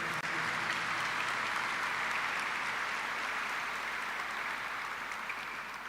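A Mass congregation at Caacupé gives sustained applause, a thick continuous patter of many hands that holds steady and then eases slightly toward the end, with no speech on top.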